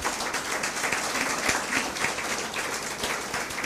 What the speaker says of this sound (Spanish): Dé un aplauso al Señor Jesús.